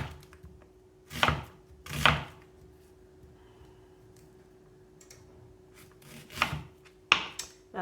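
A knife slices through a ripe tomato on a board in four separate, crisp cuts with short crunchy rasps, close by and spaced apart against a quiet background.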